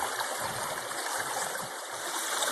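Water rushes steadily through a small California stream sluice box outdoors, a continuous close trickling and gurgling wash with no break.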